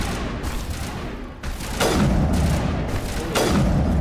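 Sniper rifle fire in the video game Mass Effect 1 comes as loud, booming shots with rumbling decays, one near the start and others around the middle and end, over dense continuous game noise.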